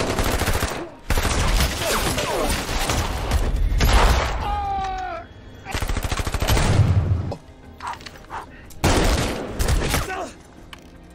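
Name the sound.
gunfight between special forces and cartel in action film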